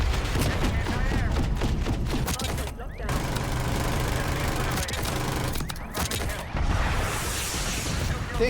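Rapid gunfire from a SAUG submachine gun in Black Ops 6, dense bursts of close shots rattling almost continuously with brief gaps, over game noise and a speaking voice.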